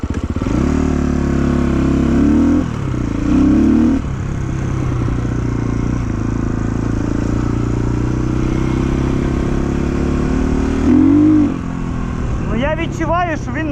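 A KOVI JNR 250 enduro motorcycle from 2024 being ridden, its engine droning steadily with a few short revving surges. A rider's voice comes in briefly near the end.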